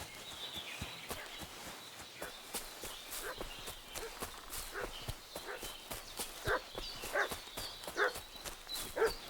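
In the medieval world of the video game Kingdom Come Deliverance 2, a dog fusses and barks amid walking footsteps and hoof-like clops, the sounds faint and scattered against a quiet outdoor background.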